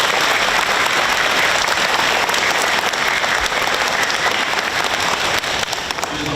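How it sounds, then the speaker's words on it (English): Sustained audience applause at an elementary school award assembly, a broad, even wash of many hands clapping that stays loud and steady throughout with no talking. "a round of applause for them"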